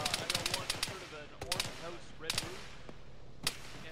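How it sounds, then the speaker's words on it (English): Gunfire from an Arma military-simulation game, played with a ShackTac group, comes in rapid bursts of sharp shots at the start, then scattered single cracks and short volleys over a steady background. "we're definitely taking fire from the northeast"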